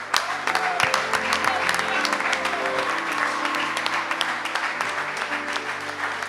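A church congregation applauds to acclaim the Lord, with steady sustained clapping from many hands while a voice talks over it.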